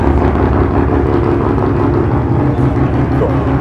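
Loud, deep engine rumble from a Mazda Miata's ISR exhaust with a cat delete, close and continuous, with a throbbing low growl and no voices.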